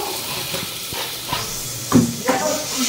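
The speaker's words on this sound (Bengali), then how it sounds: "প্রথমে সামান্য একটু নুন দিয়ে এগুলো একটু ভাজবো" Ingredients fry in a pan with a little salt, a soft steady hiss and sizzle running beneath a voice as she talks, with a few clattering bumps near the end.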